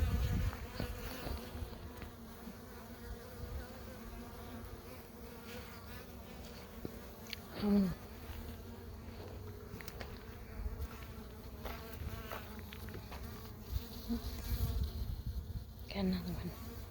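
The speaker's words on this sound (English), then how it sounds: "Not a lot of bees up in the corner, not on the frame." Honey bees buzz steadily around hive frames during a honey harvest, a close, continuous drone with individual insects flitting past the microphone and a few louder passes near the end.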